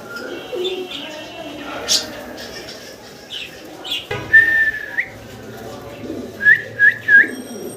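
A pair of red Sirazi pigeons coos softly near to the listener while people talk, with several sharp high whistles or chirps standing out toward the end.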